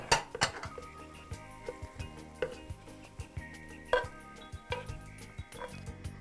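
Dishes and metal utensils clink and clatter as stir-fried gochujang anchovies are plated in a kitchen, a string of sharp irregular taps and scrapes, fairly faint and without talk.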